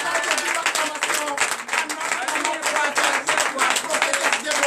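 Congregation at a morning prayer meeting clapping in acclamation, a dense, continuous burst of many hands applauding together with voices calling out over it.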